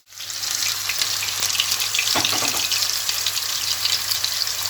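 Meatballs (köfte) frying in a pan give a steady, close hiss of sizzling fat that holds at the same level throughout, with a low hum underneath and no voices.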